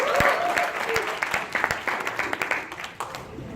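Audience at a training session in Melbourne applauds in a steady close round of clapping, with a few louder individual claps and a brief voice early on, tapering slightly toward the end.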